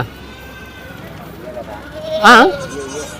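A single loud goat bleat rings out briefly near the end at a weekly livestock market in Gudur, over a steady murmur of crowd chatter and background noise.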